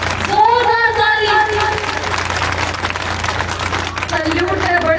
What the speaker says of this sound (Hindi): एक बार जोरदार ताली बजा दो बड़े भाई के लिए